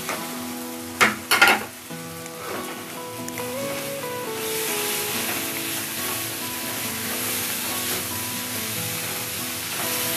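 Ghugni sizzling in a pan, with continuous frying hiss and a few sharp clattering stirs near the start, then a steady dense sizzle while ground garam masala mixed with a little water is stirred in.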